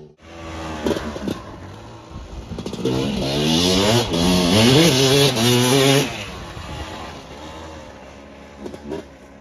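Honda CRF 450 dirt bike on a slick, muddy motocross track at Montgueux, its engine revving up and down in rising and falling sweeps, loud and near, then fading as it pulls away.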